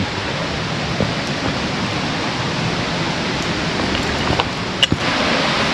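Steady broadband rush of Utod Falls waterfall in Magallanes, Cavite, a continuous close roar of falling water with a couple of brief faint clicks near the end.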